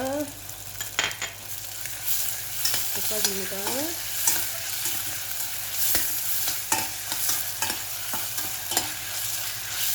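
Sizzling stir-fry of sliced pork with chives and sugar in a pan, with steady frying hiss and occasional scraping and clinks of a utensil, with a brief spoken phrase.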